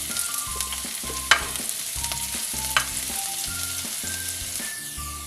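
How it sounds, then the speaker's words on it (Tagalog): Celery stalk sautéing in a pan for a cod fish curry, a steady close sizzle and crackle with a couple of sharp stirring clinks, while music plays underneath and no one speaks. "Now magigisa na ako. Unahin ko itong celery stalk."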